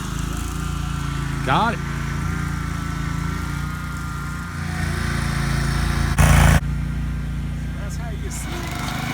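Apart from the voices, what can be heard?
lawn seeding machine running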